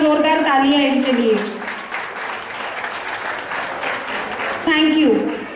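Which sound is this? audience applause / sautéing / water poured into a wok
audience applause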